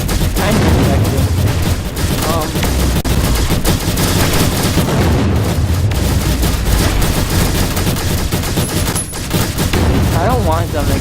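Rapid, dense volleys of blaster fire from a video game arm cannon, loud and nearly continuous, with booming impacts layered over a busy game soundtrack.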